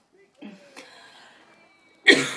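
A cough or throat-clearing burst near the end in a quiet indoor scene, following brief faint vocal sounds; close and fairly loud, a single harsh rasp.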